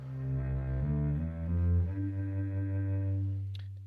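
An electric double bass bowed with a horsehair bow sustains low, smooth notes that shift pitch slowly, close and fairly quiet, with no voices.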